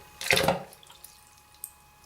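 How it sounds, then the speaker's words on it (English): A GoPro Hero 3 fitted with a Floaty Backdoor drops into water, making one short, close splash, after which a few faint drips and small sloshes follow. "So I'm just going to drop it in the water."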